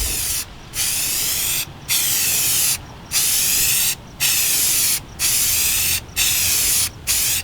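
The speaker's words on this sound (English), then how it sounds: "This one, you do test spray, you shake it" Seven short bursts of hissing aerosol spray from a spray can coating carbon fiber vents, each about half a second to a second long with brief pauses between, close and loud.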